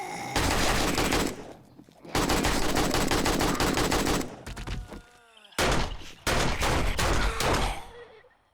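Rapid automatic gunfire in 7 Days to Die, long sustained bursts of rattling shots with brief pauses between them, loud and close, ending in a final short burst and fading tail.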